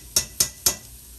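A spoon strikes the rim of a pot of red sauce with added garlic three times in quick succession, crisp close metallic clinks with brief ringing tails, then quiet.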